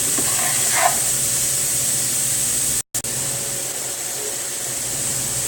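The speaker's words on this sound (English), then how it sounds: "Long enough for all the vegetables to saute and get a little soft, but not long enough for the garlic to get burnt." Vegetables and garlic sautéing in a pan give off a steady, close sizzling hiss that drops out for a moment partway through, then resumes.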